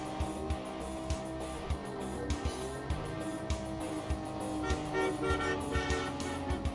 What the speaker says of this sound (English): Why did he honk at me?